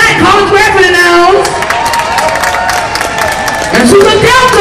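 A dance show audience at a fair claps and cheers for a judge, a loose wash of crowd noise running under an announcer speaking loudly over a microphone.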